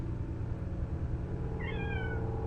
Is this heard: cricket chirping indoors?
no